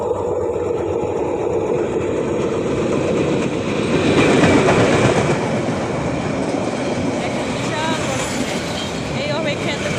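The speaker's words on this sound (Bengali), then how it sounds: "ট্রেন যে হঠাৎ করে কোথা থেকে আসলো দেখাই যায়নি," A train rolls past close by at a busy spot lined with street snack stalls, a loud continuous rumble and rattle of wagons with rhythmic clatter and some high squeals, while people talk over it.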